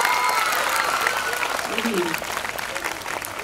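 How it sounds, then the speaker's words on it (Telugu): An audience claps at a talk with a loud, dense burst of applause that slowly thins out, while someone speaks over it. "మళ్ళీ ఒక్కసారి చప్పట్లు కొట్టున్నాను"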